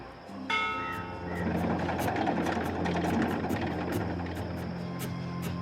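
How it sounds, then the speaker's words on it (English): A ship's bell rings once in Dreamfall Chapters, a bright clang that lingers over a droning, engine-like background hum. "this is a ship's bell. They use this to signal the crew when a load of cargo is ready to be hoisted up."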